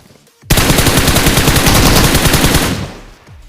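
Rapid automatic gunfire in the mobile battle royale game BGMI: one loud, dense burst that rattles on for about two seconds and then cuts off sharply, with no voices.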